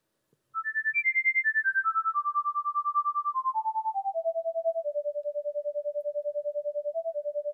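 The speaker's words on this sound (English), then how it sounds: "see if we could sonify this and listen to those structures and those patterns" Sonified fluid turbulence data plays as a pure whistle-like electronic tone, pulsing rapidly and stepping down in pitch through a series of sustained notes before settling on one steady low tone, clean and alone.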